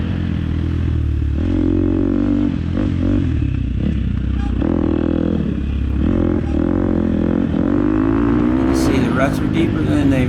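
Motocross motorcycle engine revving and droning steadily as the rider leans through deep ruts, loud and close throughout, with someone talking over it.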